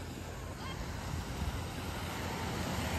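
Sea waves at Ganpatipule beach on the Konkan coast, a steady roaring wash of surf mixed with wind buffeting the microphone, continuous and fairly loud throughout.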